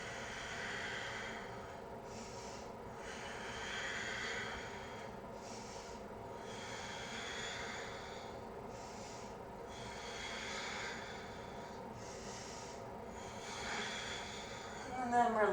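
Deep, slow breaths drawn and released during a yoga locust pose, forming about five long airy swells at a steady rhythm, close and soft with a low background hum.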